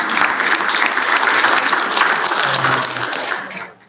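Audience applause fills a community gathering in Del Paso Heights, dense steady clapping from a crowd that holds loud for several seconds and then tapers off at the end.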